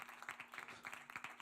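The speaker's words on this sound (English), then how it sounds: "Too much clapping." A small audience applauds at a live comedy show, a quick, steady patter of many hands clapping at moderate distance, with no voices over it.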